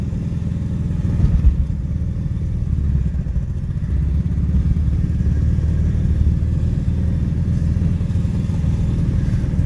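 A ZAZ-965 car engine idles steadily and close by, a continuous low rumble that holds throughout with no voices over it.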